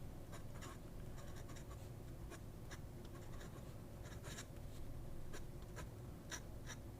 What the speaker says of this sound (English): Does it reverse writing? A little scratchy.